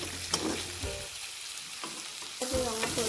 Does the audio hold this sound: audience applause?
no